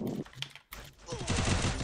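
Rapid video game gunfire bursts crackle under an excited voice, with a brief silence midway before dense shooting resumes louder toward the end.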